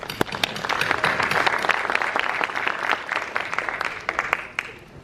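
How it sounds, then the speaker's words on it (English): A conference audience claps for about five seconds: dense, lively applause at a steady level that tapers slightly at the end. "So just a quick round of applause, please."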